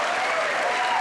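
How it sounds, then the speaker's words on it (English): A short burst of steady applause, a dense wash of clapping from an audience lasting about a second. "Let's give a big round of applause, Randall."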